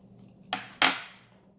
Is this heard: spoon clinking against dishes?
yes